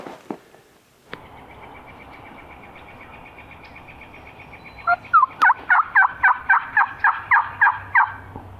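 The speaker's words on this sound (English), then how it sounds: "Turkey just gobbled while I was walking." A wild turkey gobbles from a tree at a distance. A rapid rattling series of about ten throaty pulses rises over faint low rumble and rustling outdoors, clear but not close.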